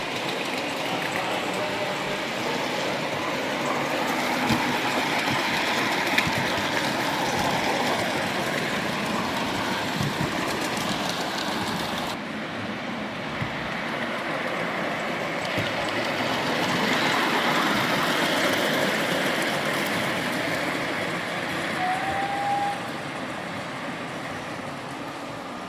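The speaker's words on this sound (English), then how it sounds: "realised that the guy had fulfilled my request by running the large prairie at full speed." A large prairie tank steam locomotive on a model railway, run at full speed during a model railway weekend at a railway centre, gives a steady rolling rumble and rattle that carries on throughout without a break.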